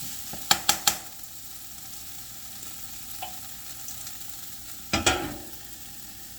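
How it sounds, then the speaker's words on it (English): Peppers sauté for a seafood gumbo, a low continuous sizzle in the pan broken by a few quick metallic scrapes and clanks of a utensil stirring, with one louder clattering stir near the end. "gonna do some of these peppers here. Saute them real good."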